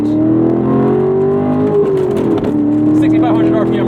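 A Corvette C7 Grand Sport engine revs toward its 6,500 RPM redline, a loud, steady in-cabin drone that dips briefly, then climbs in pitch toward the end.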